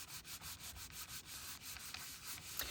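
Soft, even rubbing strokes across the back of curved 80-pound white cover cardstock, quiet and close, repeating in a steady back-and-forth rhythm.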